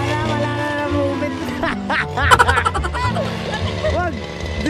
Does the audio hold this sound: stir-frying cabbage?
no